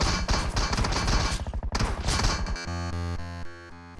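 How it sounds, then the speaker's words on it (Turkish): Grenade blast in PUBG Mobile, the Erangel map, amid a dense burst of rapid gunfire and thuds, followed by loud sustained game music. "Şöyle bir bomba atayım."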